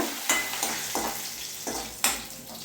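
Green chillies and curry leaves frying in hot oil in a pan for a Kerala-style onion egg roast, a steady sizzle broken by several sharp scraping stirs of a spoon, close and clear, with no talking.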